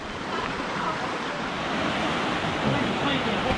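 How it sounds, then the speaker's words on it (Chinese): Swollen mountain stream rushing over submerged stepping stones on a hiking trail, a steady, loud wash of water close by with no break. "现在是河水涨了，过河的石头都被淹了。"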